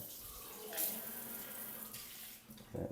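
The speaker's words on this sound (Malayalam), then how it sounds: "ഈ സാധനം ആകുമ്പോൾ വെള്ളം ഇങ്ങനെ" Water streams steadily from a multi-mode tap nozzle, a continuous close splashing rush with a brief surge near the start and a change in the flow at the end.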